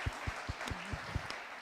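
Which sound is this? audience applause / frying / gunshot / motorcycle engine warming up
audience applause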